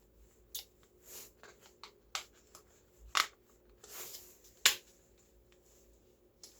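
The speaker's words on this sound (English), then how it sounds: "So I cut it to fit the same disc that sits in the drain to make it flat" A drain disc cut to size with scissors, a few sharp close snips and crisp clicks spaced irregularly over quiet background, no talking.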